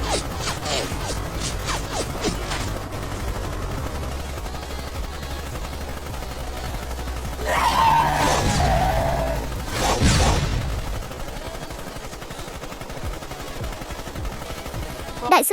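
Gunfire breaking out in rapid bursts, a quick run of sharp cracks at the start followed by louder blasts and impacts midway, close and punchy against a dark, rumbling background.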